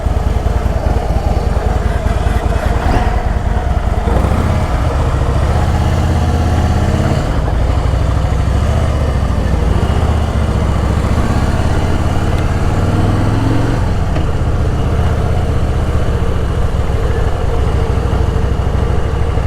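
A Yamaha MT-01 muscle bike's big engine runs steadily and loudly throughout, a constant low throb with wind buffeting and no speech.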